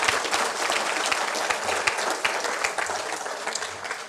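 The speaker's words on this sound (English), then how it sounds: "Let's give all the award recipients another round of applause." An audience at an awards ceremony applauds, a dense, sustained patter of many hands clapping at once, loud and close.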